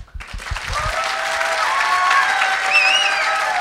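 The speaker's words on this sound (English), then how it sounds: "I need you to applause and make it impossible for everyone else in the audience to hear the person on stage" An audience at a lightning talks event bursts into applause, starting with a few close claps that swell into a loud, sustained crowd ovation with whistles and cheers.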